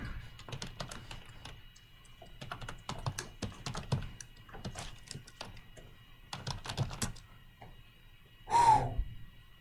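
Computer keyboard typing at close range, quiet, in short uneven bursts of keystrokes with pauses between them, ending in a brief louder sound.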